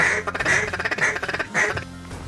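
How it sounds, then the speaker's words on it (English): Mallard ducks quacking loudly and close along the Platte River, a rapid run of harsh repeated quacks in bunches with short pauses, ending on a fainter call. "the bunches of mallards that fly up and down that river is really awe-inspiring"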